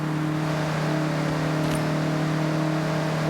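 A Mazda MX-5 engine races in Forza Horizon, holding a loud, steady, sustained drone with strong harmonic tones and no pause, heard close up and alone without any voices.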